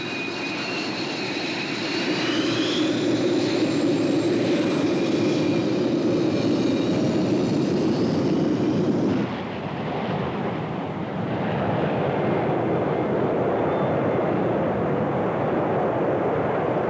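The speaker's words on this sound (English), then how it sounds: "F-16 fighters, beautiful and deadly" Thunderbirds F-16 fighter jets in aerobatic formation roar overhead, a loud sustained jet whine that peaks and then cuts to a lower, rushing engine noise as they pass.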